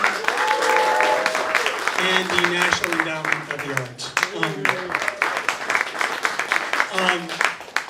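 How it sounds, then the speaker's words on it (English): An event audience applauds sponsors, steady clapping filling the room for several seconds while a voice speaks over it into a microphone. "The state of Louisiana Department of the Arts, give them a big hand."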